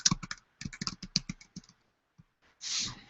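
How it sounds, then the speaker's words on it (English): A search being typed on a computer keyboard: quick runs of crisp, close keystrokes, a brief pause, then a short final burst. "So I'm going to now type in what I'm looking for"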